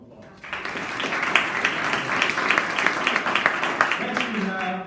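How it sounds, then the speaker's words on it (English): Audience applause at a startup pitch event opening, steady dense clapping from a crowd for about four seconds after a brief quiet start, with faint voices underneath near the end. "Let's give her a round of applause"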